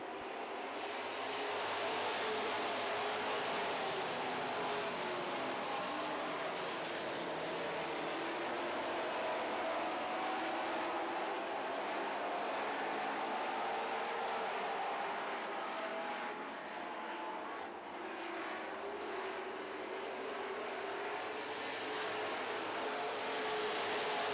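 Super stock race cars roar around a track in a steady, loud, continuous engine drone with a broad noisy wash, no break in the sound across the whole stretch.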